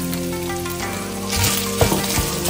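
Red beans, sweet corn and bell peppers frying with mince in a pan, a close steady sizzle that swells louder as the vegetables go in, with a few clatters.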